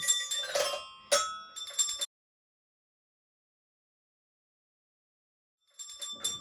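Bright metallic bell clinks ring in quick clusters, then fall silent for a few seconds before another short burst of clinking.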